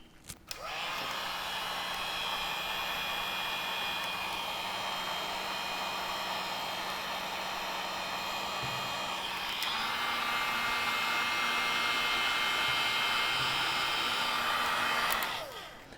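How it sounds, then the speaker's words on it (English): Steady whining roar of a heat gun warming a vinyl body skin on a Sony A7 III camera, running continuously at close range with a slight shift in pitch partway through before cutting off near the end. "we're going to heat this up with the heat gun, which is going to make this more softer, more pliable"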